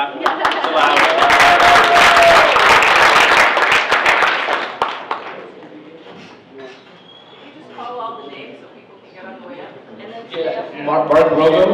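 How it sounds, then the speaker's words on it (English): Audience applause at a Rotary club gathering held at a chamber of commerce in West Los Angeles, a dense burst of clapping for about five seconds that fades into talking, with more clapping returning at the end. "It's all right, you can clap. It's allowed."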